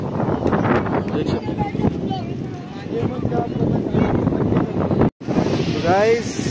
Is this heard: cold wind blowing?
yes